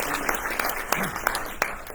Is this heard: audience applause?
yes